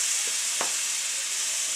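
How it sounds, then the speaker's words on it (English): Butter sizzling with olive oil in a hot pan, a steady soft frying hiss with a single brief clink or spatter near the start, quiet and close. "I'm going to add about 5 tabs of butter."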